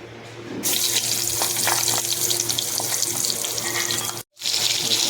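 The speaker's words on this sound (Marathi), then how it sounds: "फ्राय करण्यासाठी आपण सरसो तेल वापरणार आहोत" Food frying in mustard oil, a loud steady hiss and sizzle of hot oil that runs almost without a break, dropping out briefly near the end before resuming.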